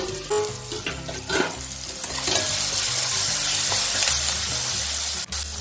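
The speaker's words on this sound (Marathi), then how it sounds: "थोडंसं यावरती मीठ टाकून परतून घेऊया" Steady loud sizzling and crackling from a hot pan, with a few stirring scrapes, as semolina is sautéed close by with salt for upma.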